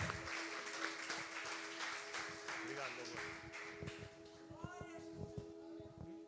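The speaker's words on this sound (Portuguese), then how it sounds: "aplauda o Senhor" A church congregation claps in praise during a Portuguese-language worship service, mixed with sustained organ or keyboard tones and voices, the clapping fairly distant and blended into the room sound.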